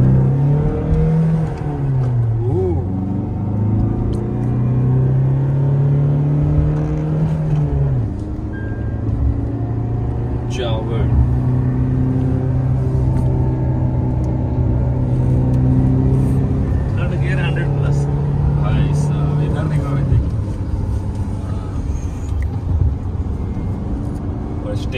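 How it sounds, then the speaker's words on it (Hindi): A 2023 Tata Harrier SUV accelerates hard in sports mode, its engine rising and falling in pitch through gear changes over continuous road and wind noise, heard from inside the cabin while someone talks. "अभी गाड़ी मैंने डाला स्पोर्ट्स मोड पे, आप देखते हैं थोड़ा इसको भगा के गाड़ी भागता कैसा है"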